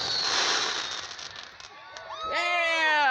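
Fireworks boom and crackle at the 2023 John Lambert Days show in Ohio City, a loud broad burst fading into softer crackling, followed by bright, drawn-out tonal blasts.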